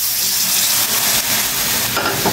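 Shrimp-head broth poured into a pan of sautéed squash and string beans sets off a loud, steady hiss and sizzle, close and unbroken, with no talking.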